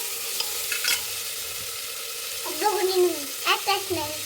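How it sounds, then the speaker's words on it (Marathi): Vegetables for Maharashtrian masala rice are stirred in a hot pan, giving a soft steady sizzle with scraping spoon strokes and a few brief clinks. "आपल्याला भाजी परतून घ्यायचं आहे"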